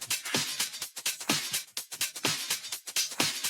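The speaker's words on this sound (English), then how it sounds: "the first break beat of the first part of the second break sounds like this." A break beat from a Vengeance loop plays under a rising high-cut filter sweep: bright, busy drum hits in a fast, steady groove, close and alone.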